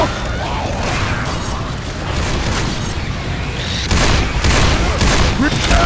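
Gunfire rattles through a Left 4 Dead co-op match, dense overlapping shots and booms running continuously and growing louder toward the end, with players talking over it.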